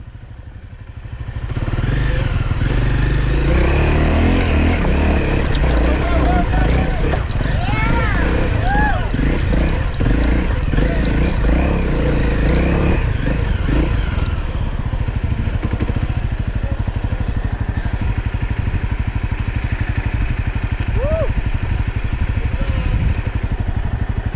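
A dual-sport motorcycle engine drones loudly and steadily while riding off-road over the rocky trail of Poison Spider Mesa in Moab, with a voice speaking over the engine noise in the first half.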